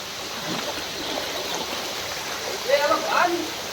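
Steady rushing water of a rain-flooded river roars continuously, with a voice speaking briefly near the end over the flow.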